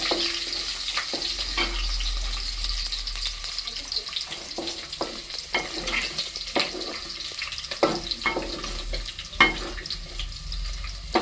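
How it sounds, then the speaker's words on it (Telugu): Thinly sliced onions fry in hot oil for a Nellore-style fish curry, giving a steady close sizzle broken by repeated scrapes and stirring clatters from the pan, with no voices. "ఇందులో సన్నగా తరిగి పెట్టుకున్న ఉల్లిపాయ ముక్కలు కొంచెం దోరగా వచ్చిందా"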